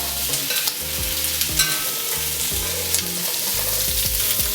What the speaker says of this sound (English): Just give it a pan fry right here,